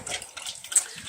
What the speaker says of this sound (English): Sorry about the dog drinking